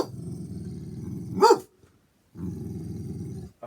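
A tiny dog growls in low, steady rumbles, lets out one sharp bark, pauses briefly, then growls again, close up and with no talk.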